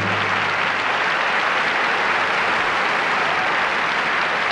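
A theater audience gives dense, sustained applause for Liberace's clown medley act, a loud and even roar of many hands clapping with no break and no talk over it.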